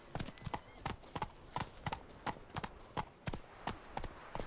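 Horse hooves clip-clop steadily along a road in The Witcher 3: Blood and Wine, a close, regular walking rhythm of about a dozen crisp hoof strikes.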